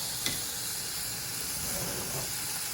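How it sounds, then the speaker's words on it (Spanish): Chickpeas tumble into a simmering pot of Madrid-style tripe stew, callos a la madrileña, giving one soft knock at the start over a steady, gentle hiss of cooking that carries on unchanged. "vamos a agregar los garbanzos a nuestra cocción"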